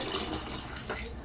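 Water pours off washed rice as it drains through a sieve, a steady close splashing trickle lasting a moment.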